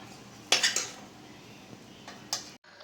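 Roasted coconut is transferred from a pan into a bowl of Bombay rava (semolina) for rava laddu: a quick cluster of metallic clinks and scrapes of a spoon against cookware, then a single later clink over a quiet kitchen background.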